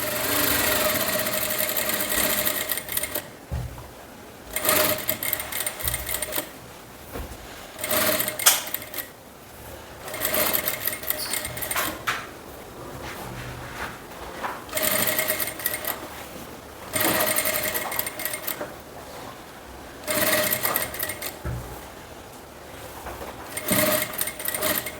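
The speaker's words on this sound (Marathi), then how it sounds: "आता इथे आपण शिलाई मारायला स्टार्ट करणार आहोत। अगदी सावकाश पद्धतीने तुम्हाला इथे शिलाई मारायची आहे।" A sewing machine stitches a kurti in repeated steady runs, a loud, close mechanical whir that stops briefly between seams and restarts over and over, with no talking.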